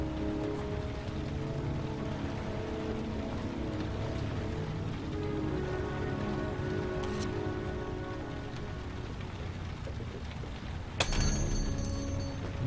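Steady rain falling in the video game Heavy Rain, an even hiss of drops on surfaces with a low humming background, continuous and moderately loud, then a sudden sharp metallic clatter near the end.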